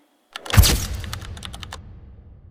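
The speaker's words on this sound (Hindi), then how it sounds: "आपको अपने कीबोर्ड से एंटर की को प्रेस करना है।" The Enter key pressed on a computer keyboard: one sharp, close clack rings out, followed by a few lighter, fading clicks, with no talking.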